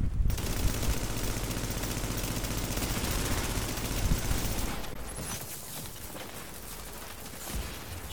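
Rapid, dense gunfire fills a match of The Division video game, with automatic bursts overlapping into a continuous loud barrage that eases slightly toward the end.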